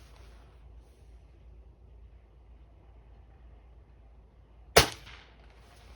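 A single sharp crack rings out from a 19-year-old Crosman 800X Quest spring air rifle fired offhand outdoors, and it stands alone against a quiet background hum.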